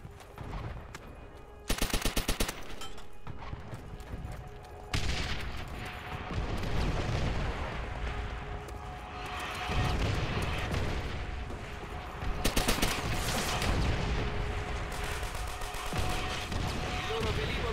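Call of Duty: World at War battlefield with continuous rattling machine-gun fire, sharp rifle shots and heavy artillery booms in dense overlapping bursts, with voices shouting in the mix.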